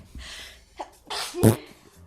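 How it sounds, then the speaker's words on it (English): A single sharp sneeze, preceded by a couple of quick breaths, close to the microphone. "Okay, I did sneeze."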